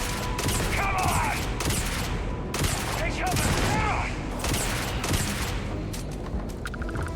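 Shotgun fire in the sci-fi shooter Starfield comes as a rapid series of loud, close blasts, roughly seven or eight in quick succession, mixed with other gunfire, shouting voices and mechanical clicks.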